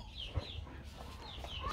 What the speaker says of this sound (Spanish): Ahí está la gallina, le vamos a mostrar a la gallina